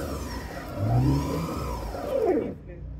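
The engine of a car stuck in a Montreal street revs up twice under the accelerator, a close rising whir that swells and fades while people talk in the background.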